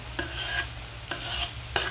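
Half a kilo of sausages fry with diced onion in their own fat, a soft continuous sizzle broken by three spaced scrapes of a spoon stirring against the pan.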